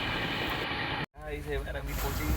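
A passenger train pulls into NJP station in North Bengal at dawn, with a steady rumble and hiss, a brief cut, then a voice talking over the rolling train noise.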